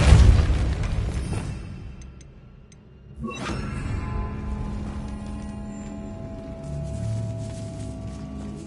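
A Confringo explosion spell in Hogwarts Legacy bursts with a sudden boom after a quiet lull, followed by a lingering rumbling tail and soft in-game ambience.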